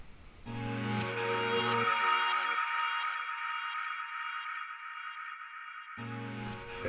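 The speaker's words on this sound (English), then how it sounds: "Lots of delay and reverb on there." A sustained drum and bass sample loop drenched in delay and reverb, a dense shimmering wash of tone that thins as the low end drops out, then returns with a fuller bass layer near the end.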